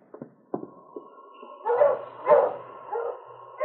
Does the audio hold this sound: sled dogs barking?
yes